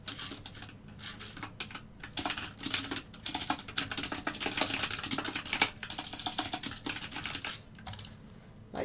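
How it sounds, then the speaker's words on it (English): Rapid typing on a computer keyboard during live algorithmic trading, with dense, uneven bursts of key clicks that stay close and fairly loud throughout, with no talk. "My typing is not so good at the moment."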